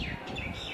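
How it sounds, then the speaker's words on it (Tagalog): A bird calls in a short sustained whistling phrase, outdoors at moderate distance, with no talk over it. "Oh, may ibon. Anong ibon yun?"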